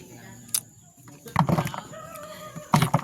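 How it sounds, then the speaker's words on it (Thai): Chickens cluck in short bursts at a rural spot where a bathroom pit is being dug, a few bird calls rising over a faint outdoor background. "ไก่แล้วพี่น้องไก่แล้วพี่น้องนี"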